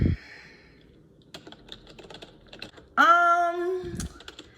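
Soft, sparse taps on a quiet Redragon RGB keyboard in a quiet room, followed by a brief tonal sound and a low thump.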